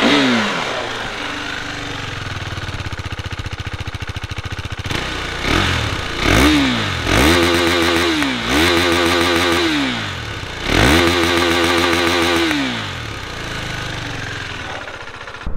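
A KTM RC 390 BS4 single-cylinder motorcycle idles with a rough, rapid thump, then is revved in repeated blips that climb and fall sharply, loud and close, with no talk.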